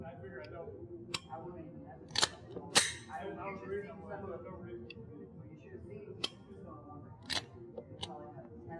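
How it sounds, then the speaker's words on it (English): Pistol shots at a shooting range come as several sharp, fairly faint cracks at irregular intervals, spaced over someone talking. "I'm going to start releasing again, and then reset everything until I finish firing my circuit of fire."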